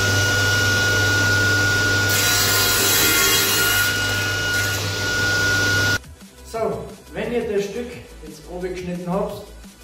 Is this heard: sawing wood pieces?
yes